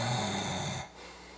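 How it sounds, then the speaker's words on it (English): A man snores deliberately with his jaw pushed forward, a single rough rattling inhaled snore that is loud and close, then cuts off into quieter breathing. "if I have my jaw forward and I try to snore"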